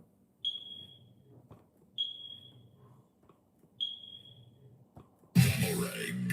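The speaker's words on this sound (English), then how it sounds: "you get the triple smoke detector chirp" Three short, high-pitched smoke detector chirps sound at even intervals, each a brief beep, before a burst of loud broadband noise cuts in at the end.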